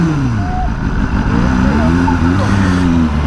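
A Ducati Multistrada V4 S or BMW M1000R motorcycle engine revs loudly and close in traffic to warn pedestrians, its steady mid-pitched drone holding and rising slightly with voices heard alongside.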